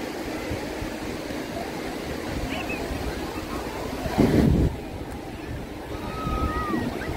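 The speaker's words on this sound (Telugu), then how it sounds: "So the biggest beach in Udupi." Waves rolling onto Malpe beach in Udupi, a steady roar of surf mixed with wind buffeting the microphone, with a louder gust midway and faint distant voices.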